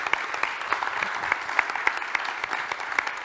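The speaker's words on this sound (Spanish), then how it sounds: "Fernando se merece un aplauso muy grande," Steady, moderately loud applause from an audience clapping for Fernando, with dense overlapping claps and a few sharper individual hits standing out over about three seconds.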